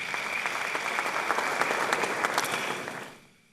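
An audience at an honorific lecture in Ghana gives a round of applause for a retired Court of Appeal justice, dense steady clapping that holds for about three seconds, then fades away quickly.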